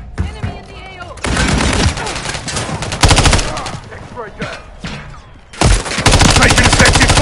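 Gunfire in Call of Duty MW3: loud, rapid automatic bursts come in three long volleys, with voices shouting in the gaps between them.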